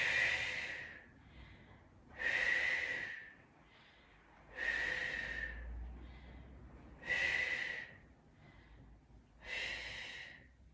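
Forceful exhaled breaths during a weighted core workout, five strong blows spaced about two and a half seconds apart, close and clear with quiet pauses between.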